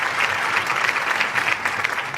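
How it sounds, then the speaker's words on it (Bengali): A school audience bursts into loud, sustained applause for a Class 5 student, a steady, close patter of many hands with no talk over it. "দিব্য সাহসের জন্য একটা জোরে হাততালি"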